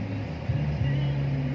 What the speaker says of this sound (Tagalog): tatagal tayo ngayon dito kasi traffic